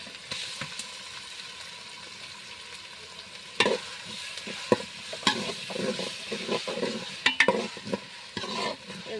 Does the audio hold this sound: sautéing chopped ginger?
yes